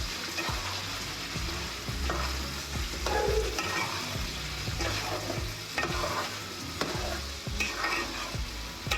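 Soya prawns, paneer, baby carrots, peas and sweet corn being stirred in a hot pan for a vegetarian stir fry, a steady close sizzle broken by repeated scraping stirs, with no one talking.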